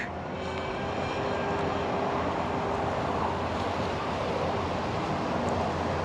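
A Sonicwake RC boat fitted with a HYDRA X8 ESC runs flat out across open water, its high-pitched motor whine steady and continuous with broadband spray and wake noise, no talking.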